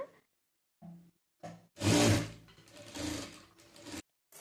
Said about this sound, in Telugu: ఇవి కుట్టుకొని ఇలా కట్ చేసిన పీసెస్లను అన్నిటినీ నేను డోరీల లాగా కుట్టేసుకుంటున్నాను అనమాట